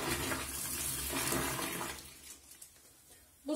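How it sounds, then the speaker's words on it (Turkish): Boiling water being poured into a clogged toilet bowl, a close rushing splash that fades into gurgling trickles, no talk. "Ve üzerine 1 litre kaynak su döküyoruz."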